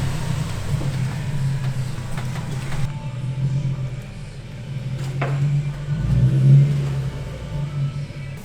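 Honda Civic VTEC engine revving nearby, a rough mid-pitched drone that rises and falls as the throttle is worked, swelling to its loudest peak toward the end.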